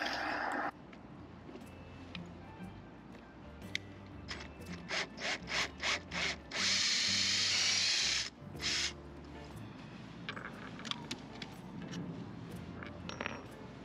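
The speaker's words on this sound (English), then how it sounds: "bit to start a guide hole before I do my final larger diameter bit" A drill bores a small guide hole through boat deck gel coat while fixing a slipping Muir windlass: a run of short scraping bursts, then about a second and a half of steady close grinding. No one talks.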